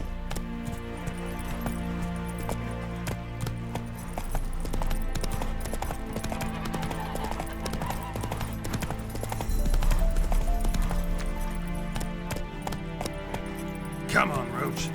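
Roach, Geralt's horse in The Witcher 3, gallops with steady rhythmic hoofbeats under a sustained game music bed, close and even, with a clinking jangle of tack and a brief louder flourish near the end.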